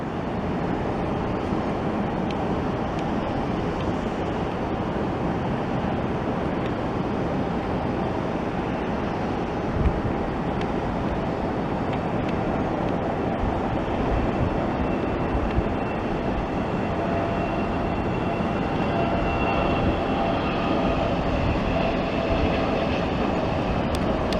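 An MD-95 Boeing 717 jet departs on runway 27 right, bound for Detroit, filling the air with a continuous loud, broad roar that stays steady for the whole stretch.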